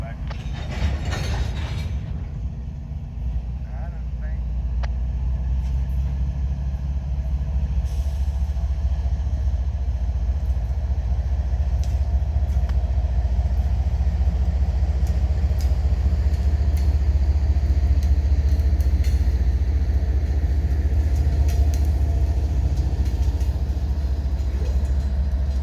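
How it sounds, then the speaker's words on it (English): Short freight train L740 shoves back toward Oglethorpe Yard on the Fitzgerald line, a steady low rumble of rolling railcars and faint wheel clatter building and holding, heard from trackside at moderate distance. "As the short train departs"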